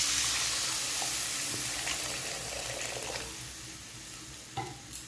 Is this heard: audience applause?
no